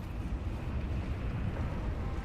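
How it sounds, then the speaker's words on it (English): A deep, sustained rumble from an explosion in the video game Nobody Wants To Die, a dense low roar that stays steady and loud throughout without distinct bangs or voices. "Explosion!"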